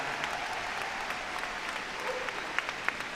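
At Crufts, an audience applauds dog show finalists with steady, moderately distant clapping that carries on throughout.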